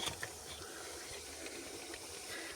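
Small pies fry in a pan of hot oil, a faint, steady sizzle and hiss with occasional soft pops, heard alone.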